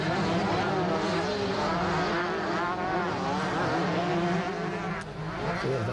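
A rally car driven by Esa Matikainen on a gravel track at Haapajärvi roars loudly and steadily, its engine pitch rising and wavering as it revs and draws closer.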